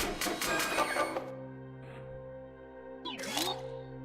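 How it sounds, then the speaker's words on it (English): A card printer in the video game Inscryption runs with a dense mechanical clatter and whir, then goes quiet under a steady hum, followed by a short rising whir near the end. "Fresh out of the printer."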